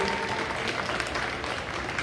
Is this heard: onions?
no